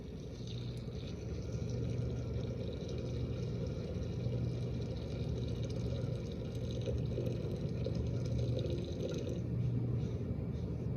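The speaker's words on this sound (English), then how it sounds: "So then we take our boiling water and pour it into here" Boiling water pours steadily into a container of sugars and glucose for syrup, a continuous close splashing rush with a low hum underneath.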